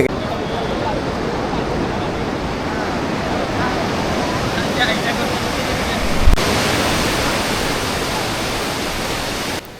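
Sea waves at Puri beach roll in as a dense, continuous roar of surf, loud and close, with a brief thump partway through and no clear talk over it.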